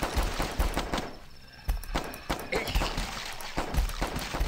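Handgun fire in a Flash shooter game, repeated sharp shots at an uneven rapid pace over a busy game soundtrack.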